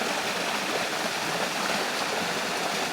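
Steady broadband rush of water pouring into the River Ure or Swale in late October, a continuous stream-like flow heard close and fairly loud with no voices.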